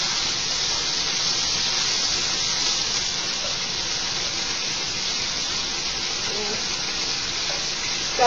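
Garlic sautéing in olive oil in a pan, stirred around, giving a steady, loud, hissing sizzle that continues evenly throughout without pause.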